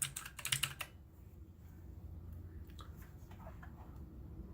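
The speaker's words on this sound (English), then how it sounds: "That's the Redragon one-handed RGB mechanical gaming keyboard with its very clicky switches that I just love." Brief burst of rapid clicky keystrokes on a Redragon K585 one-handed RGB mechanical gaming keyboard with clicky switches, close and crisp in the first second, then only faint background noise.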